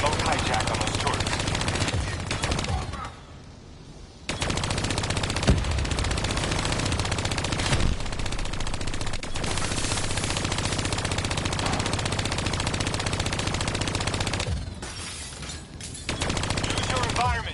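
Sustained automatic gunfire from a Call of Duty Black Ops 3 match, loud and dense rapid bursts running nearly throughout, with brief lulls and game sound underneath.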